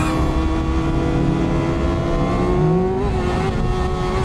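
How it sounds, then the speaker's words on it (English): A car drives on the Nürburgring track, its engine a steady, loud, close drone with a sustained tone that rises slightly as it accelerates, no talk over it. "How slow is this car going?"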